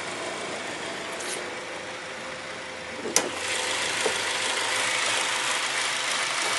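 A Honda Civic Type R, original and unmodified, idles quietly and steadily with a low, even engine hum, broken by a single brief sharp click midway.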